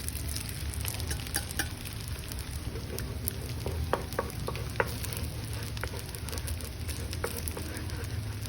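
Eggs go into a pan of green peas, bacon and rice already frying in oil, giving a steady close sizzle with scattered crackles and pops and some stirring scrapes.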